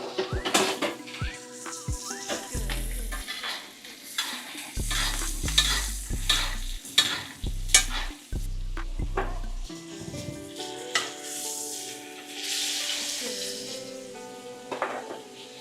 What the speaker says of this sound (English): Baste for about 30 seconds. We'll flip it over again and baste again.